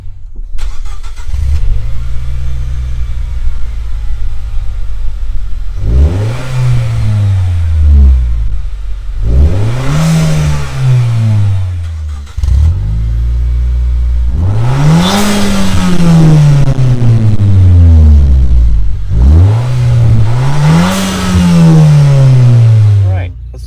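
A Nissan Juke fitted with a Stillen mid pipe exhaust revs loudly and close up, five rising-and-falling engine sweeps separated by brief drops back toward idle.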